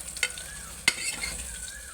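Mutton curry ingredients frying for a Telangana-style curry, a steady close sizzle broken by two sharp scraping stirs of a utensil against the pan.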